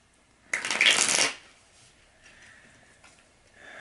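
Tarot cards being shuffled, one quick close riffle lasting under a second, followed by faint card handling and rustling in a quiet room.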